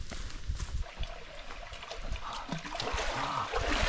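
A mountain stream near a campsite trickles and splashes continuously, close and fairly loud, with the water sound swelling toward the end and no clear speech.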